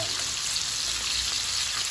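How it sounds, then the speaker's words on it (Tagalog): Loud, steady sizzling and crackling of chicken frying in hot oil, heard up close without any talking. "Sige, prito natin ito."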